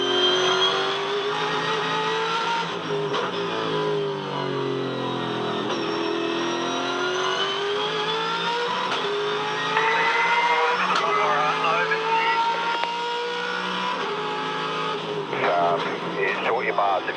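Ford Falcon V8 Supercar heard from the cockpit while racing at Yas Marina in 2011, its engine droning steadily at high revs with pitch rising and falling through gear changes. Commentators talk over it throughout.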